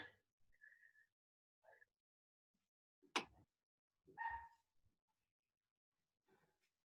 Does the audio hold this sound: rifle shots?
no